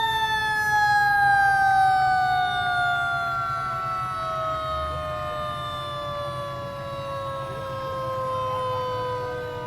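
Harrisburg Fire Department fire truck sounding its siren in a 4th of July parade, a loud sustained wail with layered tones slowly falling in pitch over a low engine rumble.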